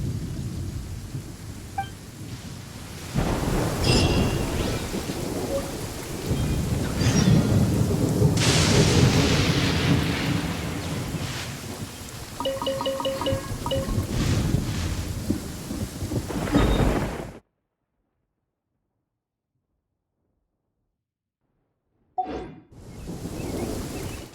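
Heavy rain with rolling thunder in Genshin Impact, a dense steady downpour with loud rumbles and cracks, suddenly cutting to silence near the end before faint game sounds return.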